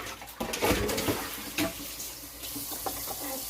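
Kitchen tap water runs into a sink while a bowl is washed, a steady close splashing stream with shifting gurgles as the flow hits the dish.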